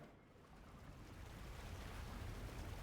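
Water surging upward in a Genshin Impact puzzle in Fontaine: a steady, broad rushing wash like surf, building slightly in loudness and continuing without break.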